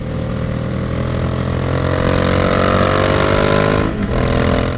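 A motorcycle exhaust is captured close up by a Zoom H1 recorder mounted on the rear fender near the mufflers: a loud, steady engine drone with a slowly rising pitch and a brief dip near the end.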